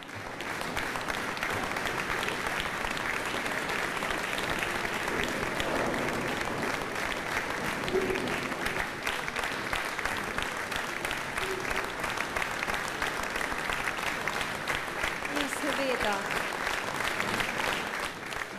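A concert audience at a live wind orchestra anniversary show applauds steadily for nearly twenty seconds, a dense sustained wash of clapping with faint voices mixed in.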